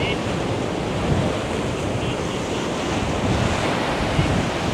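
Strong water flows at the end of the Gomti river, a steady loud rushing roar like surf, mixed with wind buffeting the microphone.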